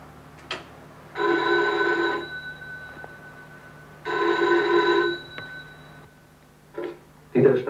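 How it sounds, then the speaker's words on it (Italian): Two long electronic telephone rings sound in sequence, each lasting about a second with a pause between, clear and close, followed by a short tone and the start of a voice. "Und jetzt hören wir ein Telefonat."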